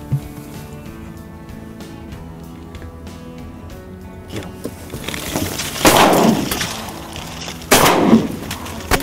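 Two loud shotgun blasts ring out during a duck hunt on open water, the first near six seconds and the second almost two seconds later, each a sharp broadband crack with a decaying tail over low background noise.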